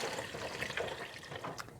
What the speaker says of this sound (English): I'm going to add a carton of beef stock.